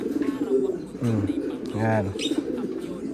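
Pigeons coo in short, repeated bursts at close range while a loft keeper pairs a black racing pigeon for a one-loft race, with someone speaking briefly over the birds.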